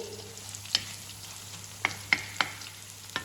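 Bitter gourd pieces being stirred while frying in a pan: a steady soft sizzle with several sharp scraping clacks of the utensil, spaced irregularly, close by with no talking.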